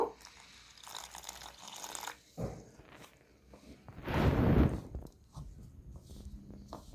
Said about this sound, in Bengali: এরপর জলটা অল্প করে দিয়ে দিয়ে দেখব